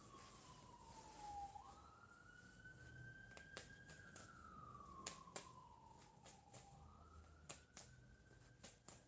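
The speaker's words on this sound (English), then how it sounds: "you hear that, ambulance?" An ambulance siren wails up and down in slow sweeps at a moderate distance, with scattered sharp clicks and snaps nearby.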